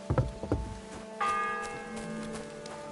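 A church bell tolls within a video game, a single loud resonant strike that rings out and slowly decays, following a couple of softer knocking sounds at the start.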